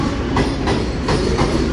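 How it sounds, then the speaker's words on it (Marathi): A Mumbai local train passes through Dadar railway station, its wheels clattering in a steady rhythmic clickety-clack over a loud, continuous rumble heard close by, with no voices. "आणि ही आहे मुंबईची लोकल ट्रेन"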